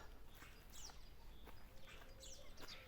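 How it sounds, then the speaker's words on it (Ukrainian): Starlings sing outdoors on a sunny day, with a few faint whistles and chirps at a distance over quiet background noise. "Це я слухаю як шпаки."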